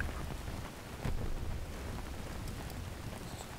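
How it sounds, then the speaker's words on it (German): Steady rain in the war shooter Battlefield 3, a continuous hiss of falling drops with a brief louder burst around the one-second mark, no voices. "Es regnet."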